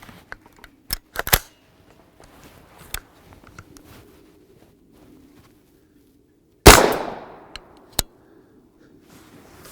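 9x19mm 80-grain G9 Defense external hollow point rounds fired from a 16-inch barrel, several sharp cracks early, then one loud close shot with a ringing decay and a final crisp report.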